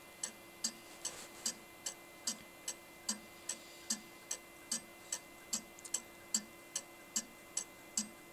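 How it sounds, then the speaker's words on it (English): The movement of a J.W. Benson 12-inch single fusee dial clock ticks in a strong, even, mellow rhythm, about two beats per second, close up and alone in a quiet room. "Let's open it up so you can hear the movement ticking away."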